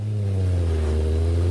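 Inline six-cylinder engine of a 1934 Bentley 3.5 litre, exhaust flaps opened by a lever, revving loud and close with a steady deep rumble holding through the short burst.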